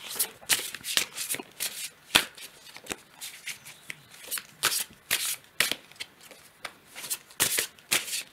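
Tarot deck being shuffled by hand, a series of crisp papery riffles and slaps in irregular bursts, close and fairly quiet, with no talking over it.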